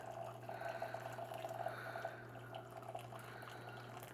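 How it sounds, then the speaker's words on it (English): A thin, steady stream of water trickles and splashes into a pour-over coffee maker, continuous and fairly quiet, with a low hum underneath. "Continue to pour some water."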